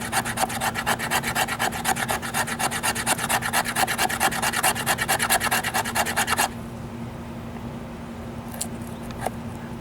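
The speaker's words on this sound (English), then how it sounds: "Let's go ahead and get some fat wood shavings." A knife spine rasps rapidly back and forth against a stick of fatwood, scraping off shavings in a dense, rhythmic run of strokes for several seconds before it stops, leaving faint handling noises. The sound is close and dry, with no speech.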